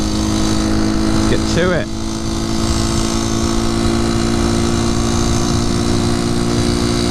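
A 1973 Honda C90 motorcycle engine drones loud and close as it pulls through the gears, with a short voiced interjection over the steady mechanical hum.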